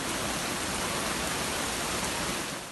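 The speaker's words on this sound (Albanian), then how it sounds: "Mjaftuan pak minuta rreshje masive shiu dhe qyteti Shkodrës përfundoi në ujë." Heavy rain pouring down in the city of Shkodër, a dense, steady broadband hiss of downpour with no pauses, fairly loud and uniform, tapering slightly at the very end.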